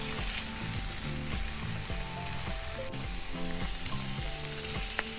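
Shrimp sizzling in a hot pan with sun-dried tomatoes and dry seasoning for an omelette, a continuous close frying crackle broken by occasional stirring clinks.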